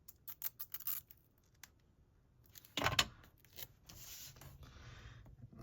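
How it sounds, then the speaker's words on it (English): Paper backings peel off foam tape for a handmade card, a few soft rubs and taps, then one brief, crisp tearing rasp up close in a quiet room. "I'm going to peel these backings off."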